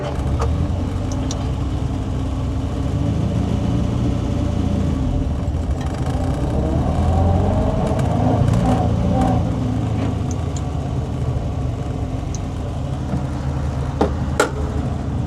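An Austin-Healey Sprite engine drones steadily on the road, loud and continuous, with a low rumbling note that swells slightly as the car pulls along.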